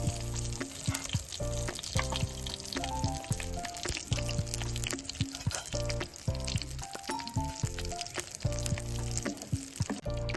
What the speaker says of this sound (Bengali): ওটাও তেলে ভেজে নিচ্ছি।